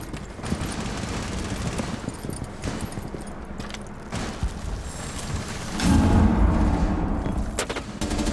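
Gunfire in the Rainbow Six Siege video game, a dense continuous crackle of shots and impacts that swells louder toward the end, with no talk over it.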